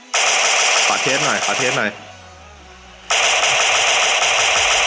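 Rapid automatic gunfire from a mobile sandbox war shooter game, loud and sustained in two long bursts separated by a short lull, with a voice speaking over the first burst.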